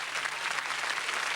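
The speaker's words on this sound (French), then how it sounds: "On peut l'applaudir," A television studio audience applauds the Tour de France winner; a brief, steady wash of clapping, moderately soft and even throughout, with no voices heard.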